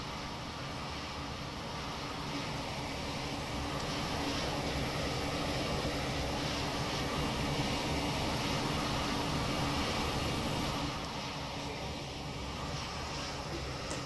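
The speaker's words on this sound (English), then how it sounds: "Oh, someone's starting their engines." Another airliner in the flight simulator X-Plane 11 spools up its engines, a steady broadband roar and whine building gradually at a distance. A voice speaks briefly over it.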